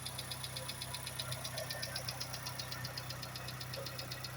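A Honda City car engine idles smoothly and steadily, a low even hum with a faint rapid ticking rhythm, fairly quiet and with no voices.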